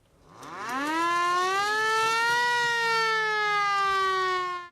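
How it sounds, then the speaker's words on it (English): The hand-cranked siren of a replica WWI ambulance winds up from a low growl to a loud, sustained wail, holds steady, then starts to wind down at the end. "And the siren."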